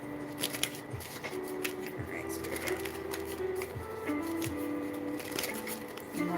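Tarot deck, a newer one, being shuffled with soft papery riffles and flicks through most of the stretch, close and light, while a voice speaks softly over it.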